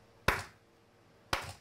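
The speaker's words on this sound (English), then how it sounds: "And then if I clap" Two sharp, close hand claps about a second apart, each a crisp isolated snap with a short decay, used to set off a Miops Smart Trigger sound-activated camera trigger.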